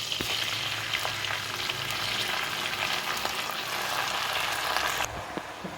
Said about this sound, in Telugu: సో ఇప్పుడు ఈ ఆయిల్లోని నేను గోంగూరని అయితే యాడ్ చేసేస్తాను.